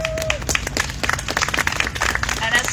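Audience applause for political leaders at a Women's Equality Day event in Boston, dense steady clapping from a crowd lasting a few seconds, fairly loud and close.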